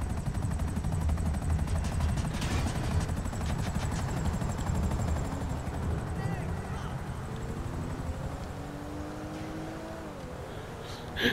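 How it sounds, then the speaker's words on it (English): A helicopter in GTA 5 Online flies overhead with a steady chopping rotor drone, loud at first and gradually fading, mixed with game engine noise and occasional bursts, while a player talks over it. "There's the helicopter."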